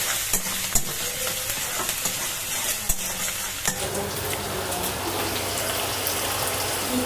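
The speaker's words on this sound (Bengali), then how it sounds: "এবার আমি এটাকে ফ্রাই করে নেব।" Chicken pieces and green chillies frying in hot oil with ginger, a steady broadband sizzle running throughout, punctuated by sharp clinks and scrapes of a spatula stirring the pan.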